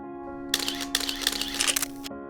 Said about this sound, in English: that's when I click the shutter